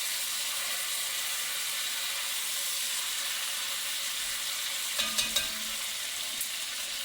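Chicken browning in a hot pan, a continuous loud broadband sizzle with a few light clicks of a utensil partway through.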